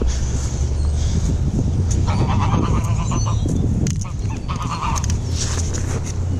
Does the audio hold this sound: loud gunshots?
no